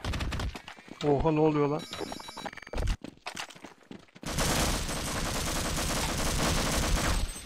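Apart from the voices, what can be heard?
gunfire from a shotgun in the video game Half-Life online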